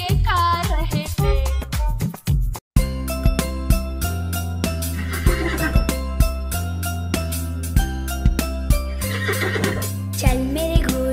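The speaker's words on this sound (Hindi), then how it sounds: "चल मेरे घोड़े चल चल चल, ही ही करके नहीं मचल" Neighing of a horse in a Hindi children's rhyme, repeated whinnies over bouncy music and clip-clop rhythm, loud and near.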